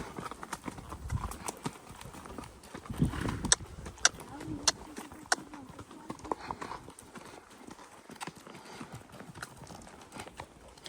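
Steady clip-clop of pony hooves on a hard, uphill road, a regular walking rhythm with a voice speaking briefly early on.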